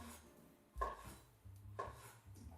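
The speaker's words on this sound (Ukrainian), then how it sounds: "Нарізати починаю з буряків." Knife chopping beetroot on a cutting board, a few firm, separate thuds with short pauses between them, close by and with no talking.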